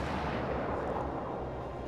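Naval gunfire in World of Warships: Legends from a T4 Jianwei destroyer, a dense, continuous roar of cannon blasts blending into one loud rumbling wash with no clear gaps and no talk.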